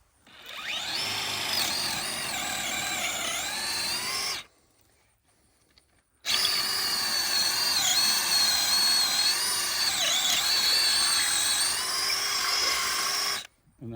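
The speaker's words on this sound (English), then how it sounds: "Why are you drilling another one?" Power drill boring a long hole for running wires, whining steadily at close range for about four seconds, stopping briefly, then running again for about seven seconds with slight pitch wavers under load.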